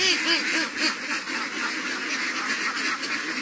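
A crowd of ducks on a two-bigha duck farm keeps up a dense, continuous chorus of overlapping quacks, loud and close throughout.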